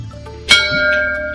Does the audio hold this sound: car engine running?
no